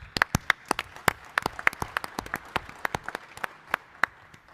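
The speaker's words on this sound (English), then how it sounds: "Let's give him a round of applause." Sparse applause from a small symposium audience at an Army association event, with distinct individual hand claps at an uneven rhythm, fairly quiet and without voices.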